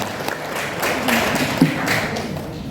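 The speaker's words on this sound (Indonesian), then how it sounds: "Tepuk tangan untuk Pak Kapten Roni." An audience claps for Captain Roni at a national seminar on preventing radicalism, a dense, fairly steady patter of hands filling a hall.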